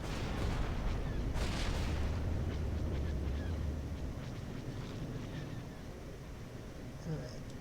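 Starships firing in the space strategy game Star Wars: Empire at War, a steady roar of booming cannon and artillery-like blasts that rolls on throughout, loud and dense, with scattered game voices over it.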